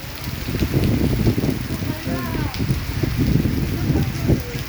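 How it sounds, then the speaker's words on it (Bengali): Heavy rain pours steadily in Kuala Lumpur's TTDI area, a dense continuous hiss and patter of drops on surfaces close by, with occasional faint voices underneath. "প্রচণ্ড বৃষ্টি হয়েছে দেখেন"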